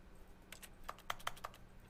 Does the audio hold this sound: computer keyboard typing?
yes